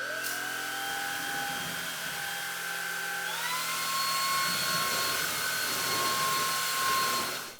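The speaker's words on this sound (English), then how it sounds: "its operating audio level isn't as loud or as high pitch as my usual Xiaomi stick vacuum" A Greenote GSC50 cordless stick vacuum runs with a steady high-pitched whine and airy rush, the tone stepping up partway through, fairly quiet and without talking.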